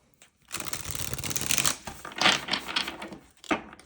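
A deck of tarot cards is shuffled by hand, giving dense riffling, flapping bursts that run nearly continuously with a short pause near the end, close and fairly loud with no talking.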